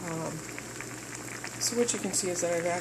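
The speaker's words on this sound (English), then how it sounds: "got the water boiling pretty high" Water bubbling at a steady boil, a soft continuous gurgle with occasional sharper pops, close by and fairly quiet.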